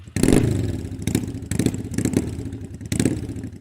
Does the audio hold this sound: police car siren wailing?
no